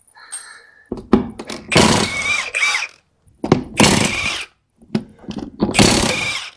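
An impact wrench fitted with new impact sockets works on the frame of a Jeep TJ, firing in several loud, close bursts separated by short pauses.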